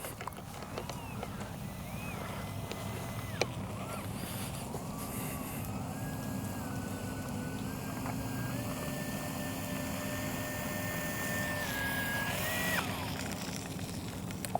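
Electric motor of a Skynetic XCub RC plane whines steadily in flight, its pitch rising and holding with a few shifts, over constant wind and background noise outdoors.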